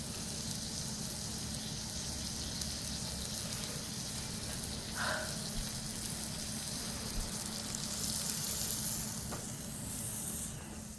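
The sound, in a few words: meat sizzling while browning in a pan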